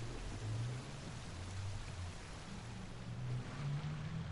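Steady, soft rain hiss in Genshin Impact, a continuous even wash of falling rain with a faint low hum beneath, no voices.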